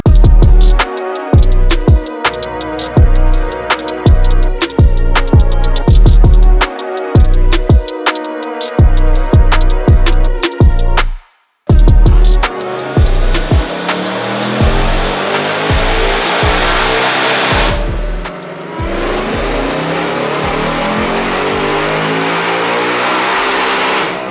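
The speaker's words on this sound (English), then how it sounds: "So yeah, let's get this thing on the dyno." A 2024 Mustang with a VMP Gen 6 3.0 L supercharger on a chassis dyno, running 93 octane, roars through repeated loud wide-open-throttle pulls with gear-change gaps, a brief cutoff, then a long sustained high-rpm run.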